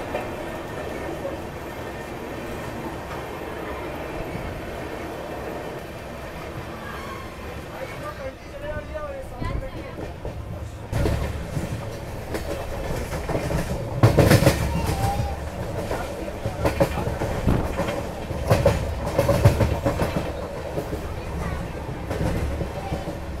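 Secunderabad Duronto Express running on rails, a steady rumbling roll with rhythmic wheel clacks that grow louder and busier partway through, heard from on board with a voice talking over it.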